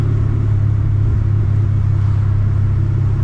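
A supercharged 900 hp Z car engine drones in a loud, steady low rumble from inside the cabin during a downshift, continuous and close with no talking.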